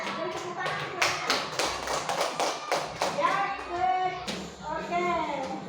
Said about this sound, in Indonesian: Ayo, beri tepuk tangan saudaranya